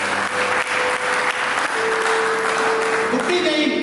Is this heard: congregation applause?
yes